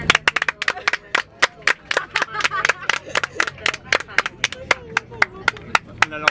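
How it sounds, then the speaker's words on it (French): Airline passengers clap as their plane touches down in Malta, a fairly close run of sharp, uneven handclaps from a small group, with voices murmuring underneath. "On a lancé un applaudissement, ça me fait trop rire."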